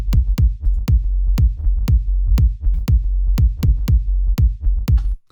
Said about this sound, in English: The next element is this donk sound that I've named it.